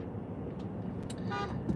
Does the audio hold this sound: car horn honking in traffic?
yes